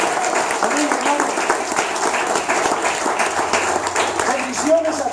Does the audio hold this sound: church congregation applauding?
yes